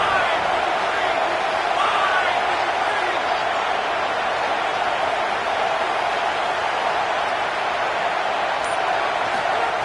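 A stadium crowd roars in an NCAA football game on Madden, a dense continuous wash of cheering and noise that stays loud and steady throughout the whole stretch.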